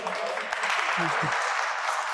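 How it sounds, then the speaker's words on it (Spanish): An audience at a talk on photonic microscopy applications applauds, a brief, dense wash of clapping that stays even throughout, with a few low voice fragments beneath. "Un aplauso."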